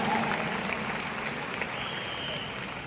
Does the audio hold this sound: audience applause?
yes